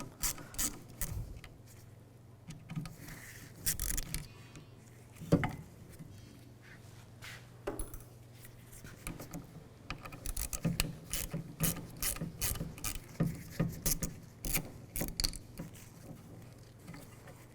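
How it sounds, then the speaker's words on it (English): A ratchet with a T15 socket backs out screws on the tailgate of a 2007-2013 Chevrolet Silverado 1500, giving quick runs of close clicking, with scraping, handling noises and brief pauses between bursts. "Now I'm going to use a T15 socket and take these screws out."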